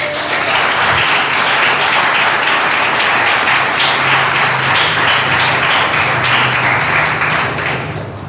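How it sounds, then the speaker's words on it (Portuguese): A church congregation applauding, loud and sustained clapping from a large crowd that only begins to fade in the last second. "E se você puder, aplauda o Senhor."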